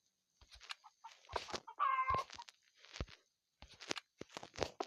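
Clucking chicken calls in the video game Minecraft, a series of short nasal bursts and one longer squawk, close and clear with quiet gaps and no talking.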